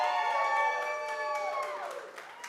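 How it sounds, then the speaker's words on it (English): A crowd at St. Mary Catholic School's Lancer Legacy Ball gala cheers loudly and steadily, with whoops and high voices rising over the sustained noise for the whole stretch. "I should be able to hear the Fatty's crew cheering very loudly right now"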